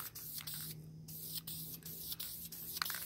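Krylon spray paint hisses from a can onto a stainless steel tumbler in faint, steady bursts with brief gaps, like light back-and-forth coats, and no one speaks.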